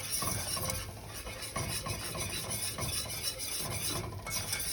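A whisk scrapes and stirs oil into flour in a pan for enchilada sauce: rapid, rhythmic rasping strokes with a faint sizzle, close and steady.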